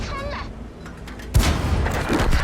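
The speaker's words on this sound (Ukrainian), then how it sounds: "Ну, ще два постріли." A tank gun fires in World of Tanks, driving a Type 64 light tank: a sharp loud boom with a rumbling tail, following quieter engine and battle noise, heard close up.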